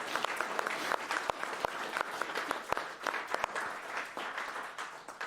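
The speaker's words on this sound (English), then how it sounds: "So let's give all of them a round of applause." A crowd at a live event finale breaks into sustained applause, dense clapping with a few sharper claps standing out, heard at a moderate distance with no speech over it.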